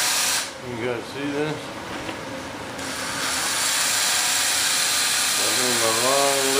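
A power drill with a long bit starts up and runs in a steady, loud whirring hiss during a Skymaster A-10 model build, with someone talking over it before and after.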